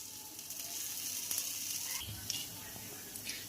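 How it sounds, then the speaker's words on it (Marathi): A dhirde of green moong dal and jowar flour sizzles steadily on a hot pan, a continuous close frying hiss with a few faint scrapes and no talk. "तर धिरड्या आपण छान असं खरपूस भाजून घेऊया"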